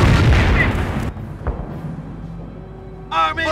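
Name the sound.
weapons firing in Company of Heroes video game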